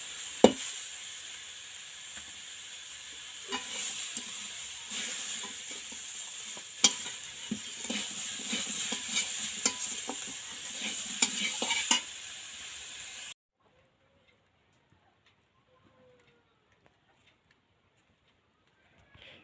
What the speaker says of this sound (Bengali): এঁচড় আলু লাল লাল করে ভেজে তুলে নেব।